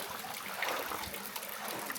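Spring water runs straight from a hillside in Jamaica and is used for a morning bath, giving a steady close splashing trickle with no voices over it.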